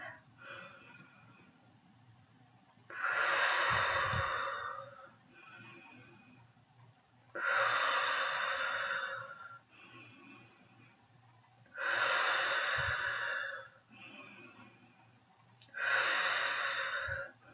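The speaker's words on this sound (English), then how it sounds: "So let's do the circle where you don't stop in between the grounding breath." Slow, deliberate breaths in and out in a continuous circular breathing exercise, four long airy breaths, soft and close in a quiet room.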